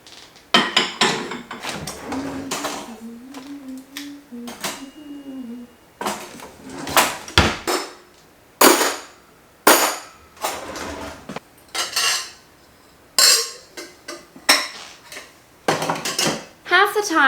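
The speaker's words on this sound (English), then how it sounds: "Half the time when I put the dishes away, I just wind up taking them back out again to make the next meal" Clean dishes, pots and cutlery are put away in a home kitchen: sharp clinks and clatters come in irregular bursts, close and loud, with a short hum of speech early on between them.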